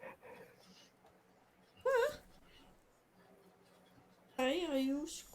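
A dog lets out two high, wavering squeaky whimpers, one brief and one longer, with soft, quieter sounds between them.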